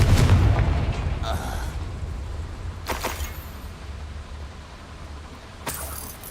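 The Confringo blasting spell in Hogwarts Legacy goes off with a booming explosive burst, followed by further sharp blasts at intervals, loud and near over a low rumbling background.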